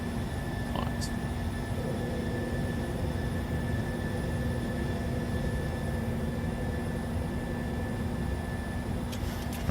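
A Boeing airliner's engines roar steadily during takeoff in Microsoft Flight Simulator, a constant broad rumble with a low hum, holding level and loud the whole time without letup.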